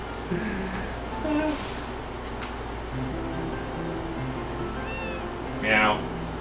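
A cat in the farming game Harvest Moon: A Wonderful Life meows in a few short, bright calls over a steady low game backdrop, with someone talking throughout.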